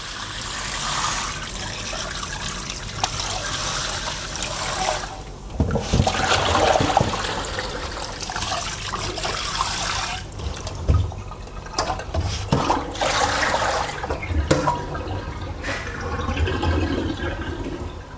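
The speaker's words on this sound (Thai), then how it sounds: "ครบครึ่งชั่วโมงก็ให้เราล้างด้วยน้ำเปล่าหลาย ๆ รอบครับ" Catfish being rinsed under running tap water, a continuous close splashing and trickling flow that shifts as the fish is moved and handled under the stream.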